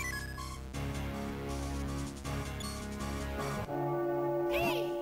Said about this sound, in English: Another bell has tolled.